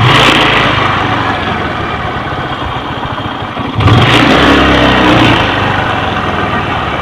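Kawasaki LS 135 motorcycle engine, carburetor being tuned for air and fuel mixture, running loud and close with a steady drone that surges in a brief rev before the RPM slowly settles.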